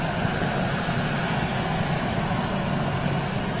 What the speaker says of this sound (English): Listen to those engines purring